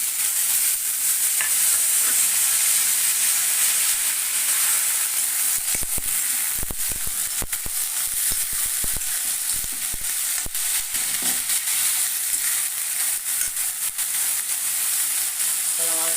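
Chopped mixed vegetables for mixed fried rice frying in hot oil, giving a loud steady sizzle that holds throughout, with scattered clicks and scrapes of stirring in the middle stretch.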